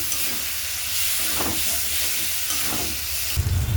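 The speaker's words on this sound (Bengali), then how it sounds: "এবার এটাকে ভালো করে ভেজে নিই।" Turmeric and chilli powder frying in a pan, a steady loud sizzle with soft stirring scrapes, and a brief louder hiss near the end.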